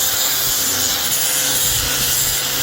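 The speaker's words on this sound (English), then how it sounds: "we're going to use the grinder with a flat disc on it." An angle grinder fitted with a flat sanding disc works across the wood of a whiskey barrel, producing a loud, steady, gritty abrasive roar that runs unbroken throughout.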